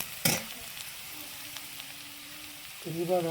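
Onions browned in a pan for a Marathi vegetable dish, with the vegetables then tipped in: a brief clatter, a faint steady sizzle, then a louder burst of frying as they hit the oil, with a short spoken phrase near the start.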